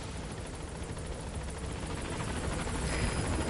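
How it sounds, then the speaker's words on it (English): A steady helicopter rotor drone from the Metal Gear video game, a constant close chopping rumble that swells slightly louder toward the end, with no voices. "So I upgraded the helicopter with speakers"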